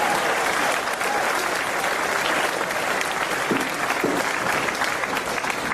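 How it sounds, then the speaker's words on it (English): A wrestling show crowd breaks into sustained applause, a thick, continuous roar of clapping from many hands that holds steady at a loud level for several seconds. "Give a round of applause for everyone who sorted that out."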